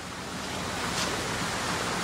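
Water of Stony Creek rushes steadily past the remains of an old dam near an abandoned ghost town at Cold Springs, a constant close broadband roar.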